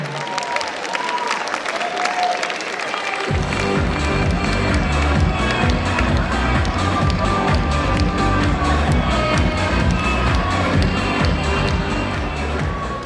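A large student audience at a university faculty competition show applauds and cheers loudly and without a break as the sociology and law faculty comes on stage, with crowd noise filling the hall.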